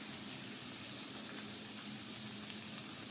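Faint, continuous crackling sizzle of chopped red chillies added to a hot oil tempering on low heat, even and unbroken throughout.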